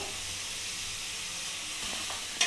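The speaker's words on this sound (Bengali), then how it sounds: "এবার ভালো করে নাড়িয়ে নেব এটা ফুলকপির পুরটা আমার রেডি হয়ে এসছে" Cauliflower paratha filling with green chillies and coriander leaves sizzles steadily in a frying pan as it is stirred, a continuous close hiss with a faint clink at the end.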